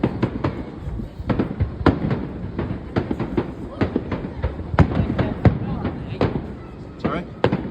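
Fireworks at a fireworks championship boom and crackle in rapid, irregular bursts, loud and continuous, while people talk nearby.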